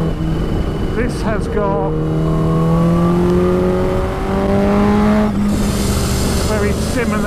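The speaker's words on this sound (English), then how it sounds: "What I do love on the H2 with that supercharger, it gives you grunts." Kawasaki Ninja H2 supercharged motorcycle engine revving, its pitch climbing in long smooth sweeps that rise and fall repeatedly while someone talks over it throughout.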